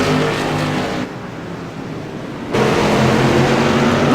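Modified race cars on the Martinsville Speedway short track, a loud, continuous engine roar that dips briefly as the pack moves off, then swells again as cars power back past up close.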